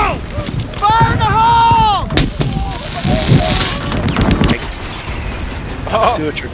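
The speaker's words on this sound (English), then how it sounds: "it set off all the little AP mines under the tank and it blew it up" Anti-personnel mines detonate under a tank in the Warhammer 3 video game, a loud broadband blast that swells for a couple of seconds amid battlefield gunfire and shouting voices.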